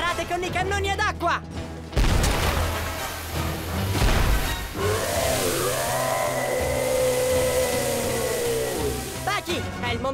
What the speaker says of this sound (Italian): Sparate con i cannoni ad acqua!